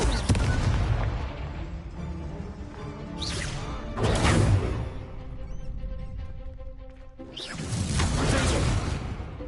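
In the Hogwarts Legacy video game, the Confringo explosion spell sets off a run of booming blasts with whooshing bursts, heavy and close, each fading out before the next rises.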